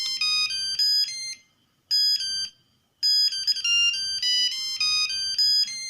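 A Nokia 3310 mobile phone plays a bright, beeping monophonic ringtone, loud and close, in short repeated melodic phrases with brief pauses between them.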